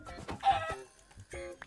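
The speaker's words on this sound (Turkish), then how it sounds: "tavuk" A Minecraft chicken clucks in a quick series of short, close calls, with a brief pause before a final cluster of clucks.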